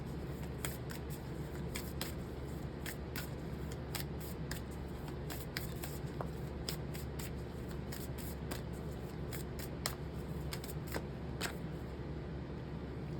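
Cards of a Moonology Oracle deck being shuffled by hand, a run of quick crisp riffles and slaps in irregular bursts, close and quiet, with a low steady hum underneath and no talking.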